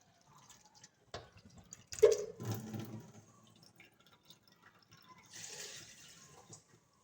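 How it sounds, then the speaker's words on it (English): Coconut poured into a blender in a home kitchen: a short splashy liquid pour and gurgle, preceded by a few clicks and clatter, then a soft later swish, close and fairly quiet. "I'm gonna pour my coconut in the blender now"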